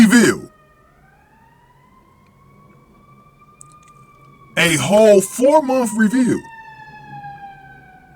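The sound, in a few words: loud siren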